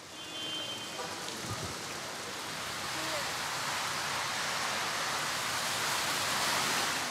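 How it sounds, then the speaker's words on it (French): Heavy rain pours down in Istanbul in a dense, continuous roar that swells slightly louder toward the end, with no voices. "Et il pleut des trombes."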